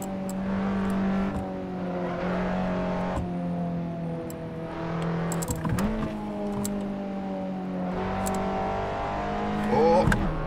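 Race car engine in a racing video game drones steadily at high revs throughout, pitch dipping and climbing with gear changes and brief accelerations, loud and close with a few sharp transient clicks.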